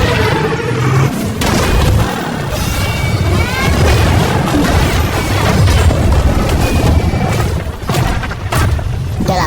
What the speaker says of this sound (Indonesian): 3 truk milik Owen terbalik lalu meledak.